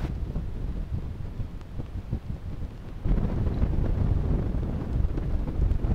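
Strong wind on the hills at Kernavė, Lithuania, buffets the microphone with a constant low roar that grows heavier and louder partway through.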